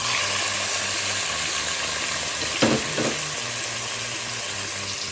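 Chicken frying in a pan for adobong sitaw with string beans, a steady loud sizzle with stirring, two brief scraping bursts near the middle and no talk.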